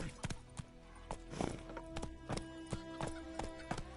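Hooves of the horse Roach clip-clop in a steady galloping rhythm in a video game, fairly quiet and close, with a brief snort partway through.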